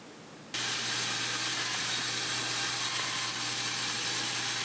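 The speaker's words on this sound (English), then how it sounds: "Take your time when you're using it on the bandsaw, especially when you're freehand going along these lines like this." A bandsaw running steadily while freehand cutting curved lines in a wooden crossbow stock, starting abruptly after a moment of quiet and then holding a constant broad hiss with a low motor hum, with no talk.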